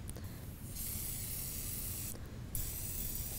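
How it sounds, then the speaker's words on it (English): Pampered Chef kitchen spritzer spraying a fine mist of canola oil onto a pan, two close, steady hissing bursts, the second shorter, over faint room noise. "And then we're gonna go ahead and just spray our pan"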